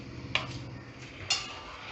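A spoon stirs bhagar aamti in a pot, giving two faint metallic clinks about a second apart against quiet background hiss.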